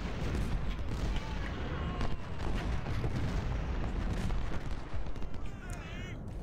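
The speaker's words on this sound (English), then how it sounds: "Keep firing on the cannon." Cannon artillery booms in the Civil War strategy game Ultimate General: Civil War, a steady rumble of firing and distant blasts running throughout, with a voice faint beneath.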